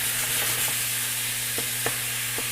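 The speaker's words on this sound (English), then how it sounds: "Just keep mixing it, keep stirring it, keep pushing it into the pan," Ground beef and onions sizzle steadily in a hot pan, a loud continuous frying hiss broken by a few soft stirring scrapes, with no talk.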